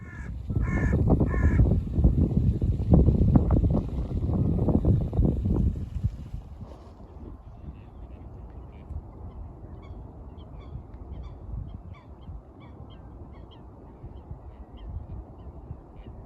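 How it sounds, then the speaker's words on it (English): At a wetland, crows give loud, harsh caws in close repeated bursts for several seconds, then quieter scattered calls drift in over faint background ambience. "And I saw some lovely crows that were calling as well."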